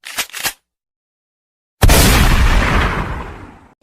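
A gunshot sound effect: after a couple of short, sharp bursts and a stretch of dead silence, one loud blast hits hard and rolls out in a long, booming tail that slowly decays.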